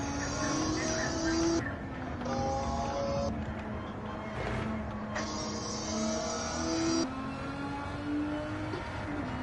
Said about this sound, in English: That thing sounds like a miniature F1 car.